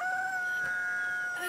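A rooster in the video game Palworld lets out a single sustained crow, clear and fairly close against a quiet background, with no talking.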